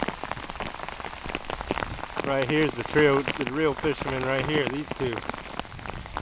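Rain pattering steadily on surfaces at a riverside salmon fishing spot in New York, a constant hiss under someone talking loudly nearby throughout.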